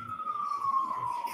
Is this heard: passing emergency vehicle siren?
yes